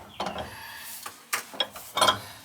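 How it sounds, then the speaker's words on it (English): A wrench tightening a fitting on the bad gas valve of a Rheem gas water heater, with several short metallic clicks and ratcheting scrapes in quick irregular bursts, close up. "We gotta tighten that up with a wrench."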